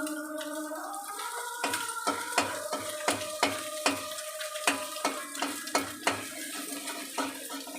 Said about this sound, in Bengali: খুন্তি দিয়ে ডিমটাকে নাড়িয়ে চাড়িয়ে ভালো করে ভেজে নেব।